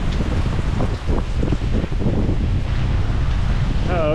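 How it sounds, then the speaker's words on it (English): Gusty hurricane wind from Hurricane Milton in Florida roars and buffets the microphone continuously, with rain noise underneath and no talking. "The wind is picking up a little bit."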